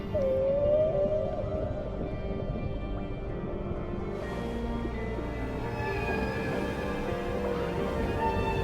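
Sperm whales in the North Atlantic call underwater, several tonal, wavering cries and rising whistles over a dense, crackling hum of sea noise that runs throughout.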